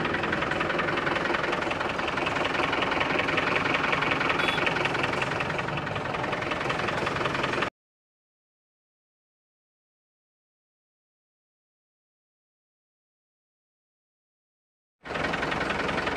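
A truck engine idles with a steady low rumble nearby, then cuts to complete silence for several seconds before briefly resuming. The truck is a six-wheeler.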